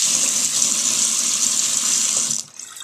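Tap water streams steadily into a sink as leafy salad greens are rinsed clean of sand and dirt, a loud, continuous hissing gush that cuts off abruptly near the end, leaving only quiet room sound.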